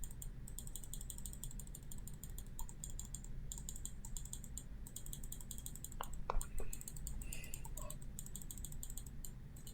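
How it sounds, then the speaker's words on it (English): Rapid, repeated clicking like a computer keyboard or mouse taps steadily and faintly throughout, with a brief louder burst of mechanical clatter midway and no voice over it. "Hearing the sound of clicking is like starting to really kind of be like water torture."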